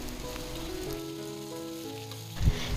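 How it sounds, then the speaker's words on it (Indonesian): Fried jengkol stirred into sizzling spices in a pan, giving a constant soft frying hiss with a faint hum beneath and a brief scrape of the spatula near the end. "Masukkan semua jengkol, kemudian kita aduk-aduk hingga semua tercampur merata."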